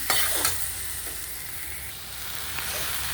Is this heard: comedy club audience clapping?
no